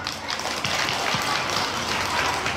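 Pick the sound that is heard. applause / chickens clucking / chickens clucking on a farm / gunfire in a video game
applause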